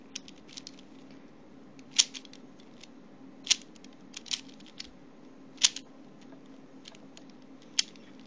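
A Dayan 3x3 speed cube turned by hand while testing corner cutting, giving a handful of sharp, sparse clicks and snaps spaced a second or two apart over a faint steady background hum.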